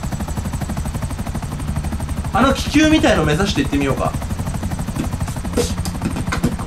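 A helicopter in the video game GTA V keeps up a steady, rapid rotor chop with engine drone throughout, while someone talks over it.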